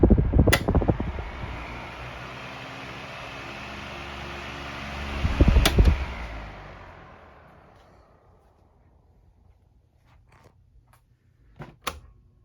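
A Sanyo 16-inch oscillating fan, model EF-16SP-3, runs with a steady broadband whir and a thin high whine, fading away after several seconds, with a few sharp clicks at the start, middle and end.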